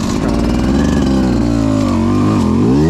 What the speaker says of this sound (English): There goes the bike.